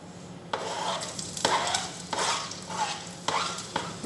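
Onion sautés in hot oil in a pan, a steady close sizzle broken by several bursts of louder frying as it is stirred.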